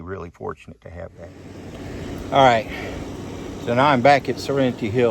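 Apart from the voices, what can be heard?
air conditioner running in the background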